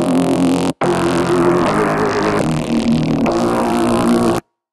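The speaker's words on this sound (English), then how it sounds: "I cooked up a little bass sound here." A loud, raspy electro house synth bass built in a Reason combinator, layered with a PX7 tone, holds sustained buzzing notes, stopping briefly once before continuing and then cutting off abruptly.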